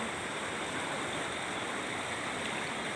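Strong floodwater current rushing past at the edge of Tha Luean village in Pak Chong, Nakhon Ratchasima, a steady broadband roar close by with no let-up and no voices.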